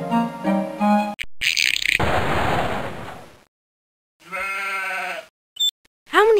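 Sheep bleat loudly and close by on a farm around shearing time, a few separate calls broken by a noisy rushing burst and short silences.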